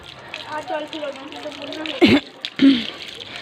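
Water from a tap splashes and trickles in short bursts as hands and feet are washed after a meal, with a person's voice heard in between the splashes.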